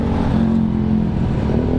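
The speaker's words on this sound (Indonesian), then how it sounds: "tes pure sound dari knalpot GP7" A Yamaha WR155 supermoto fitted with a Puresound GP7 Max 4.1 aftermarket exhaust holds a steady, loud, close engine drone with a deep throaty hum and no talking.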